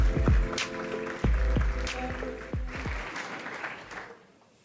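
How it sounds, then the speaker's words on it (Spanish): Audience applause at a professional convention as panelists are introduced, a full crowd clapping steadily and then tapering off toward the end, with a few low thumps and no clear talk. "Un fuerte aplauso para ellos."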